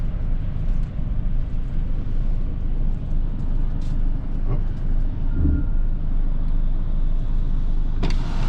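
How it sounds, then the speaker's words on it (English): Trucks manoeuvring on the vehicle deck of a Bluebridge inter-island ferry crossing Cook Strait: a loud, steady low engine rumble with a few faint clanks and squeaks. "It's pretty amazing how these guys manoeuvre these trucks."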